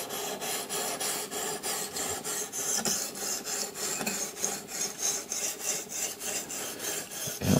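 A knife is sharpened on an 800-grit CBN stone in an Ermak 10 sharpener, making soft, repeated rasping strokes in an even back-and-forth rhythm, close and fairly quiet, with no talking.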